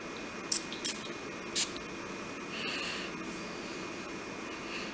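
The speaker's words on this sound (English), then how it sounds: "I'm going to spray it." Several short, hissy bursts of a La Vie Est Belle L'Eclat perfume spray bottle, three quick sprays in succession, close and quiet against a faint room hum.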